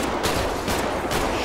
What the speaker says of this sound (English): Too much shooting going on.